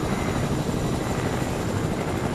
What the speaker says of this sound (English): Well, we will drive our helicopter.